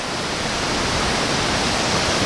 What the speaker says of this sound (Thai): นี่ฟังเสียงน้ำตกครับ